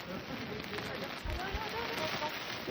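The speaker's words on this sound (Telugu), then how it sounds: "It's raining." Steady rain patters down in a dense, even hiss at Mahabaleshwar, with faint voices underneath.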